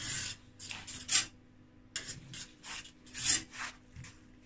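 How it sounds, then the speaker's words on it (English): A sharp knife slices beef into long strips on a board, giving a series of short scraping, rasping cuts in an uneven rhythm with brief pauses between them, close and fairly quiet, with no speech. "I'm going to cut this up and get back to you in a minute with my very sharp knives"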